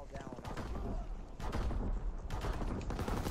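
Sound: gunfire in a shooter video game

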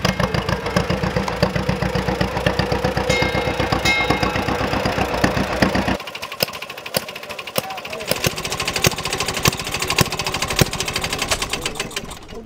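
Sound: antique gas engine running at 200 RPM

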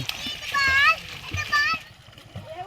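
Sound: children splashing while bathing in water in the morning

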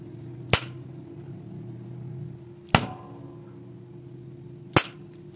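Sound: hard strike on a smartphone LCD screen

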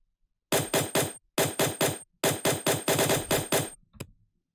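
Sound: machine gun bass effect in riddim drop, FL Studio

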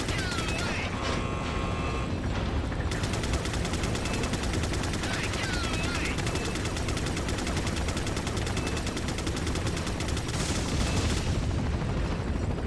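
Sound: gunshots in the video game Resident Evil 4

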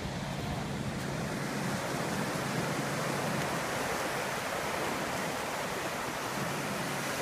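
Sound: ocean waves at El Capitan State Beach

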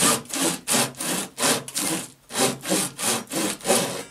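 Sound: handsaw cutting downward for home bookbinding

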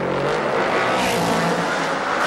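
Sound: race car wheel spin

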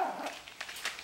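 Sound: small dog barking

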